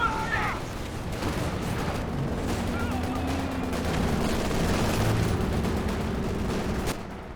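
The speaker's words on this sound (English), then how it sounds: "Machine gun guarding the far edge here" Machine gun fire in a Company of Heroes 2 WWII strategy match, heard as a steady, moderately distant battle din of small-arms bursts and occasional booms running throughout.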